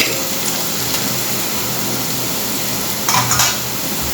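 Onion and tomato sautéing in a pan for coconut milk pulao, a loud steady sizzle with a couple of sharp spoon scrapes and clinks near the end, no voices.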